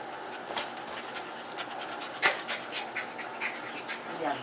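A dog pants in quick, soft repeated breaths close by, with a sharper sniff or snort midway and a faint whine near the end, over a quiet indoor background.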